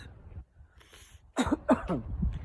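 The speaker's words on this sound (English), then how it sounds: "Please excuse me for coughing." A few short, close coughs and throat-clearing sounds from one person on a chilly outdoor walk, after a quiet moment.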